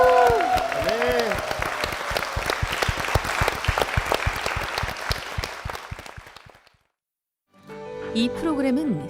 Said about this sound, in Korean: 박수 보내드리겠습니다